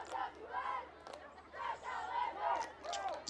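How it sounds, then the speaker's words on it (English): Cheerleaders chant rhythmically at a middle school football semifinal, their voices coming in repeated rising bursts, fairly faint and distant within the crowd noise. "Cheerleaders cheering for the Lancers"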